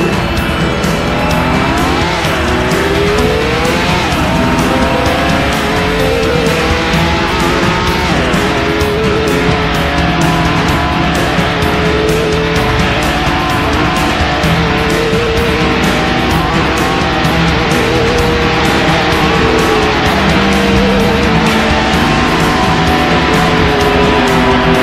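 Loud, dense race car engines in WildTrax Racing, roaring continuously with revving pitch sweeps and scattered tire squeals throughout a long stretch, no talking.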